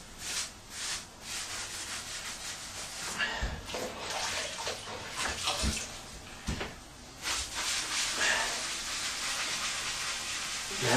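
A wet sponge scrubs grout off a tiled wall in close, loud swishing strokes with watery rubbing, in uneven bursts with brief pauses, no talk.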